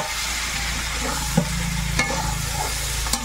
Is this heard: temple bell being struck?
no